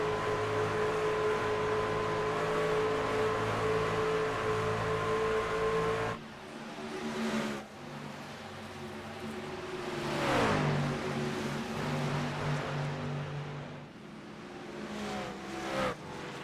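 A race car engine at Kansas Speedway drones at steady high revs, then cuts abruptly and climbs back onto the throttle, its pitch sweeping up and down as the car accelerates past, loud and alone.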